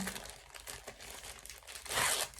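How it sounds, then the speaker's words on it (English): Plastic bags of cross-stitch project materials are opened, giving soft, quiet crinkling and rustling with a brighter, louder crackle toward the end. "Hopefully the opening of the bags is not too noisy."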